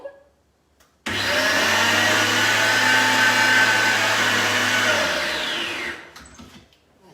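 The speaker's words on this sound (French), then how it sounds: "On va mixer 2 fois 5 secondes." Food processor blending macaron powders, a loud steady whirring motor that starts abruptly and runs for about five seconds before winding down.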